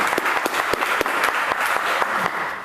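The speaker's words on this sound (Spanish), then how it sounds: "con un aplauso cariñoso recibimos al doctor Roberto Tarazona." Warm applause from an audience welcoming a speaker at a church lay gathering, steady dense clapping with a few sharper claps standing out, sustained throughout and easing slightly at the end.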